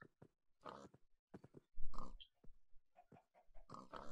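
A Minecraft pig grunts and snorts in short bursts, several snuffling sounds close by, with a louder grunt partway through.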